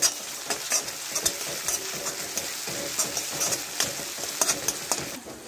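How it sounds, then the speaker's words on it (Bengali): Ginger-garlic paste being stirred into browned onions in a frying pan, with a steady sizzle under irregular scraping strokes of a spoon against the pan, close and moderately loud, with no voices. "এবার এর মধ্যে দিয়ে দেবো আদা রসুনের পেস্ট। এটিকে ভালো করে নেড়ে নেব।"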